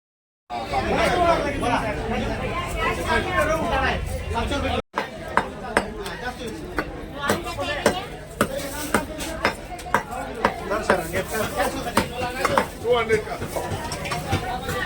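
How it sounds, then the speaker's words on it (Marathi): A knife cutting halwa, a pomfret-like fish, at a fish stall: a run of sharp, evenly spaced chops, growing steadier and more frequent, under busy crowd chatter, nearby talk and occasional bird calls. "तर हा आम्ही घेतलेला हलवा दादा कट करताय"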